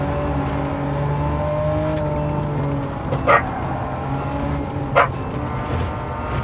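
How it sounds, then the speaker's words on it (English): A dog barks twice, sharp single barks a couple of seconds apart in a room, over the steady engine drone of a Gran Turismo 7 racing game. "Sorry about the dog barking."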